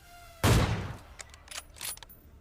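A single loud gunshot from the PUBG battle royale game, probably the AWM sniper rifle, with a sharp crack, a short decay and a few faint clicks and thuds after it.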